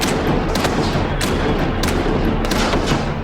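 A musket volley in a battle reenactment fires as a loud, dense run of overlapping booms and cracks lasting several seconds. The blasts are close and continuous, with no clear gaps between shots.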